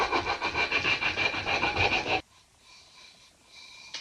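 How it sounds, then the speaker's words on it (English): A small sander works around the sides of a rustic glass decor jar with a close, rapid rasping buzz, then cuts off abruptly halfway, leaving a faint low hum. "around the sides with my little sander"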